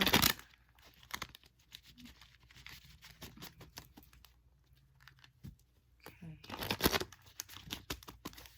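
Quick papery riffles of a card deck being shuffled, in a few short bursts separated by quiet handling, with a brief spoken word.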